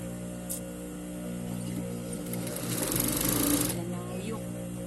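A sewing machine runs steadily and close up as it stitches a rush order. A sharper, louder burst of stitching rises near the end.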